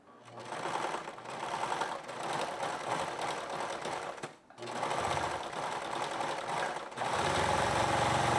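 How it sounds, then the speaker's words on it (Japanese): Overlock serger stitching around the curved part of a trouser facing, a fast steady mechanical whir in two runs separated by a brief pause, close and loud, with a slight change in tone near the end. "次に見返しのこの丸い部分にロックミシンをかけます。"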